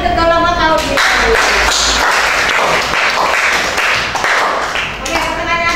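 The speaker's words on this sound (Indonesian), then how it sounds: "tepuk tangan untuk kelompok auditory" A group bursts into clapping, dense overlapping applause that fills the middle of the clip, with voices heard before and after.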